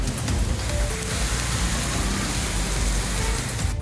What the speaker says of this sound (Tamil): புதுச்சேரியிலும் 7 மணி நேரமாக தொடர்ந்து வெளுத்து வாங்கிய மழையால் சாலைகளில் தண்ணீர் தேங்கியது.